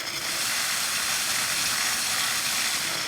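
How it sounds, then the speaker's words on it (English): Steady, loud hiss of steam jetting continuously from a steam cleaner, with a faint mechanical rattle underneath. "when I pull the trigger, it boils the water, turning it into steam"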